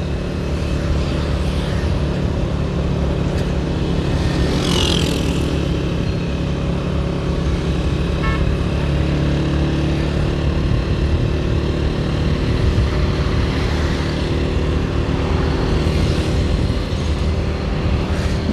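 Road noise from riding a motorcycle between Ugoki and Sialkot, Pakistan, a continuous low engine drone and wind rumble at steady loudness throughout, with faint passing sounds but no clear talk.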